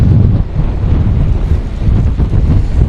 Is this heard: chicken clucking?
no